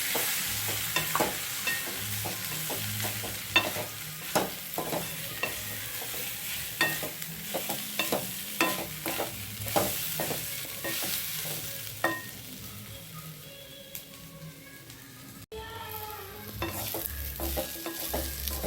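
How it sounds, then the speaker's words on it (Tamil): Grated coconut sautés in a pan for a brinjal, raw mango and cowpea kuzhambu, with a near, steady sizzle under rhythmic scraping and stirring strokes that keep going for the whole stretch. "தேங்காயெல்லாம் வதங்கிடுச்சு"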